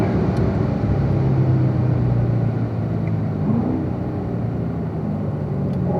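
A race car at Spring Mountain Raceway accelerating out of a corner, its engine a loud, close, steady drone with a rising pitch, heard from on board without talk.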